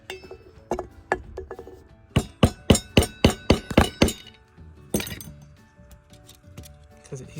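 A nail tapped with a light tool to punch a hole in a metal dog tag gives a run of sharp metallic clinks. About eight quick strikes come in a steady burst, with a few scattered taps before and after.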